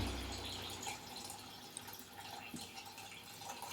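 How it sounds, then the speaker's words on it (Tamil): Tamarind water is poured into a simmering coconut fish curry, giving a faint, soft liquid trickle and splash in a quiet kitchen. "இப்போ இந்த புளி கரைச்சலை ஊற்றணும்"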